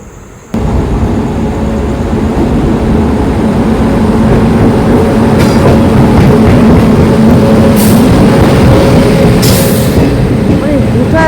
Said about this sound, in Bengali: ট্রেন ঢুকছে রেল স্টেশনে।